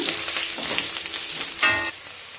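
Onions frying in a pan with curry leaves: a steady, fairly loud sizzle and crackle with light, rapid spattering, a short clink of a utensil near the end, and no voices.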